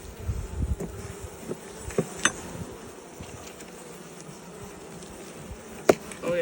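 Honeybees swarming around an opened hive with frames being handled, a constant near buzzing drone under occasional knocks and thumps of wood and a sharp clack near the end.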